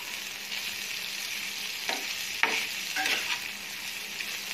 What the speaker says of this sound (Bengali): আর চপ ক্যাবেজ দিয়ে এটাকে আমি ভালো করে একটু ফ্রাই করে নেব, যতক্ষণ না এটা নরম হয়